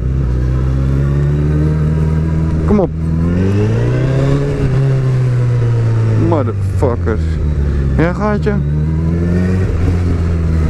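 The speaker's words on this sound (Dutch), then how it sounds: "Dat is een snelle scooter." A fast motor scooter with no mirrors revs hard through a busy city centre and red-light district on a Friday, its engine pitch rising and falling in loud close bursts while someone talks and swears over it.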